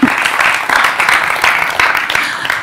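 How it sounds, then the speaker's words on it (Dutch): A festival audience in a hall claps for a tech panel at IMPAKT Festival 2023, a short burst of close, fairly loud applause with distinct individual claps pulsing through the steady patter. "Daar mag best een applaus voor komen hoor."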